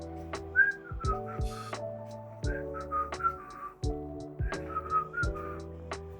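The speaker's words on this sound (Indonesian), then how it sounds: "ia bersiul-siul dengan riang" Someone whistles a bright, lilting tune with short hopping notes, close by and clear over soft musical accompaniment.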